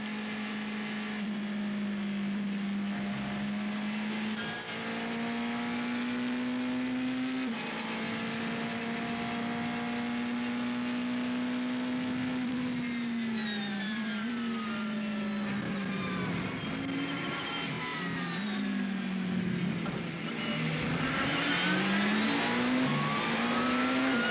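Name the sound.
race car engine onboard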